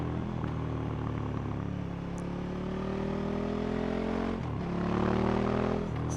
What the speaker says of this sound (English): even with a completely stock exhaust, it's got a really hooligan-y bellow to it